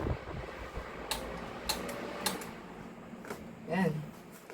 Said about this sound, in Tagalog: So, okay na po ating electric fan.